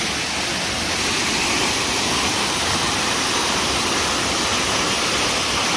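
Phurlijharan waterfall in a forest in Kalahandi, a steady, loud, close roar of rushing, crashing water filling the whole scene without pause.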